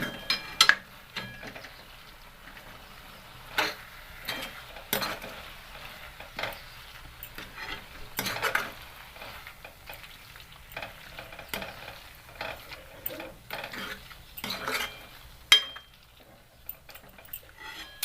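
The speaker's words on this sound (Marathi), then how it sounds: "आता परत छान असं मिक्स करून घेऊ" A spatula stirs a spring onion greens vegetable dish in a pan, giving intermittent scraping clinks and soft sizzling in irregular bursts, close and moderately quiet, cooked without added water.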